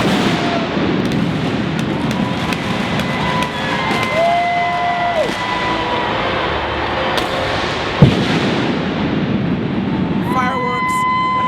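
Fireworks burst over Minute Maid Park, the Houston Astros baseball stadium, after a win, scattered booms and crackles under a loud crowd roar with whistling tones and one sharp blast near the end.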